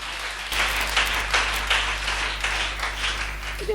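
Church congregation applauding, a steady wash of many hands clapping with rhythmic swells, rising after a brief quieter opening and continuing throughout.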